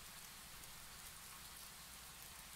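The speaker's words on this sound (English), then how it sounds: "the sound of the shower I thought I heard is the sound of rain on the ceiling" Rain patters on a ceiling in a visual novel game, a soft, steady hiss of drops that stays even and faint throughout.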